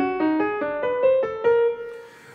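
Solo piano playing the twelve-tone row from Schoenberg's Opus 25 piano suite, a quick sequence of about seven distinct single notes, close and clear, the last one ringing out and fading.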